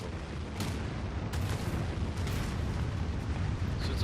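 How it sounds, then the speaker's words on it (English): Nuclear missile strike in Anno 2205, a sustained loud rumbling blast roar with several sharp cracking bursts layered on top, continuous and heavy with no pause and no speech. "So we have nuclear strikes. Let's call them in. Nuclear missile."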